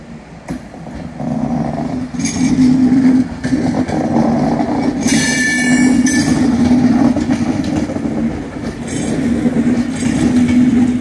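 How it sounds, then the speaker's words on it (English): An Avanti West Coast Pendolino bound for London Euston pulls out of Manchester Piccadilly station with a loud, steady electric hum and rolling rumble, and faint clicks of wheels over rail joints. "Leaving now is another Avanti West Pendolino."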